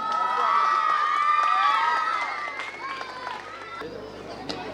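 An audience at a stage event honouring a guest artist cheers and claps, a loud crowd swell with shouting voices that fades somewhat toward the end.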